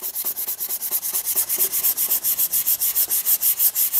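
An axe head is sanded by hand with 400 grit sandpaper, making rapid, rhythmic back-and-forth rasping strokes, about five or six per second, close and steady with no voices.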